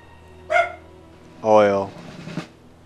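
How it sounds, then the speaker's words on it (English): A dog barks indoors in the background, giving a couple of short yips and barks spaced about a second apart, mixed with a person's voice. "Sorry about my dog."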